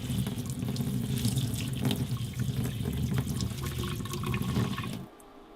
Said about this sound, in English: Those are all rinsed and cleaned, and you want to rinse them pretty well at this stage.